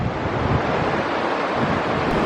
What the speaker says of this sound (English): the river is flowing fast and loud